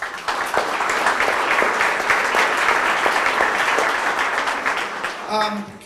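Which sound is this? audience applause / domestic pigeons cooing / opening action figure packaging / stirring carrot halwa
audience applause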